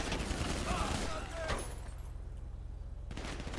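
Close-range gunfire in GTA V Online during a heist, with a dense burst of rapid shots followed by a sharp single crack, then quieter game ambience.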